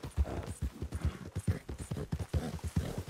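Horse hooves in Red Dead Redemption 2 clip-clop in a steady, close rhythmic gait, with about a dozen clear hoofbeats and no talk.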